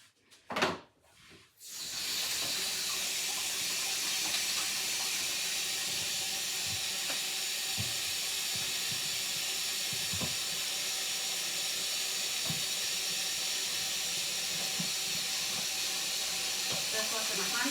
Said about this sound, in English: Just washing my hands again.